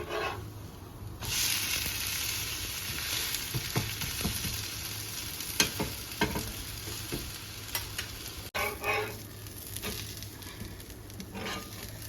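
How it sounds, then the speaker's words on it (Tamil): Black chana dosa frying in sesame oil drizzled around it on a pan, a continuous close crackling sizzle dotted with light spatula taps and scrapes. "சுற்றி எண்ணெய் விட்டுக்கலாம் நல்லெண்ணெய் தான் யூஸ் பண்ணுறேன்னா நல்லா குக் ஆகட்டும்"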